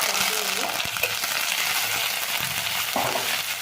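Dried red chillies fry in hot oil with a steady, dense crackling sizzle and occasional soft clicks of stirring, loud and close throughout with no voices.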